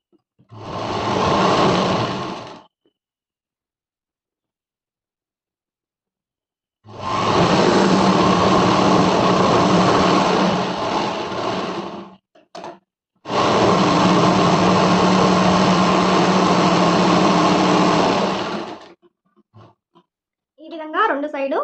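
A sewing machine topstitches a folded hem on Punjabi dress pants in three steady whirring runs, a short one and then two long ones, loud and close, with brief pauses between them.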